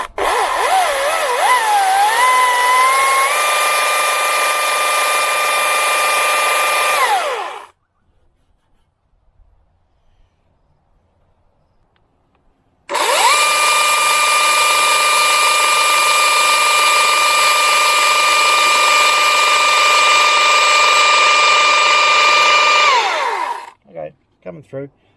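A chainsaw engine runs steadily at high revs after start-up, loud and close, for about seven seconds, cuts out into near silence, then starts again and holds a sustained whine for another ten seconds before dropping off.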